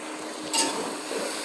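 Cabbage frying in a pan on a stove, a soft continuous sizzle with a brief clink of utensil against the pan partway through, close and alone.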